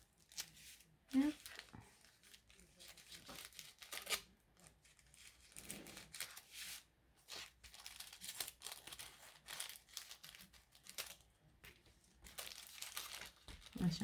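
Tissue paper wrapped around a scrapbooking gift parcel is unwrapped in short, quiet bursts of crisp crinkling and rustling near the listener, broken up by pauses and soft speech.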